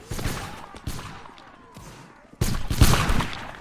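Rifle volleys in a Napoleonic-era online battle game with the 95th Rifles regiment: scattered sharp musket cracks followed by a dense crackling burst of massed fire, moderately loud, with faint voices underneath.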